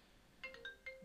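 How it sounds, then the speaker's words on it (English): A mobile phone ringtone plays a brief run of quick, bright melodic chirps, fairly quiet and alone for about a second. "my phone's ringing"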